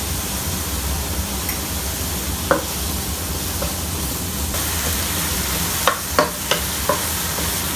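Onions with a little salt fry in a pan for chicken tikka masala, making a constant loud hiss and sizzle with occasional sharp clicks and scrapes from stirring, and no voices.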